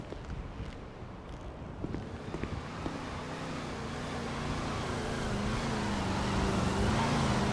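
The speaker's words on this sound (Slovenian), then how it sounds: "En črn avto se okrog vozi." A black muscle car, something like an Escalade, drives around in a roleplay video game, its engine droning steadily and growing slightly louder and nearer, with wind-like road noise throughout.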